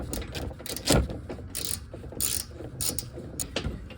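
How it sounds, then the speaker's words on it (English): A bolt being turned on a Dodge Ram control arm while the nut is held, giving repeated close mechanical ratcheting clicks in short bursts across the clip. "Just hold the nut. Start turning the bolt."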